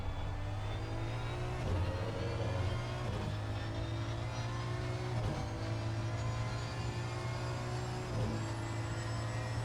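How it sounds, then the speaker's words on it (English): V12 Aston Martin GT3 race car in the Assetto Corsa racing game on the Nordschleife, a steady droning engine note with a few brief dips and rises as gears change, heard alone without talk. "It's a very nice car, this V12 Aston."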